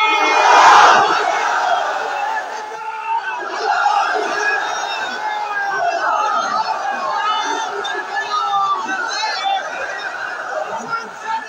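A large outdoor crowd at a religious political rally answers a takbir call with a loud unified roar of shouting, holding as a long sustained collective chant that slowly trails off into murmurs.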